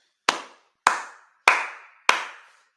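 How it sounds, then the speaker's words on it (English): A single person claps hands four times, evenly spaced and sharp, each clap close and loud with a short ringing room tail. "I have to clap myself off of that one"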